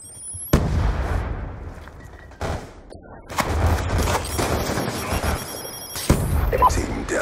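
A sticky grenade detonates on the Nuketown map in Call of Duty, with several sharp, loud booms at irregular intervals, each followed by a rumbling tail. Voices and game noise are heard between the blasts.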